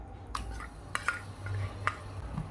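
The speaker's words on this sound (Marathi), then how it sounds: "आणि आता आपल्याला हे मिश्रण असं ढवळत राहायचं आहे।" A ground chutney mixture made from ambadi pods is stirred in oil in a small tadka pan, with a few soft, scattered scrapes and taps of a spoon over a faint background hum.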